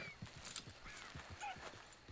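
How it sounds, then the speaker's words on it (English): A black horse in the video game Red Dead Redemption 2 walks with a quiet, regular clip-clop of hooves, accompanied by faint snorts and whinny-like sounds, and no voices over it. "Just got me a nice black horse with some white feet and a white spot on its forehead."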